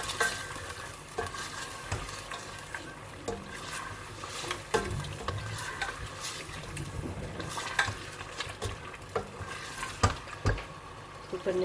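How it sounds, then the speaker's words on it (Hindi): Meat frying with ginger and garlic in a pan for Lahori haleem, a soft steady sizzle broken by repeated scraping stirs, fairly faint and close with no talking. "मैं अदरक लहसुन डाल के गोश्त को अच्छी तरह से इसके साथ थोड़ा सा भूनूंगी।"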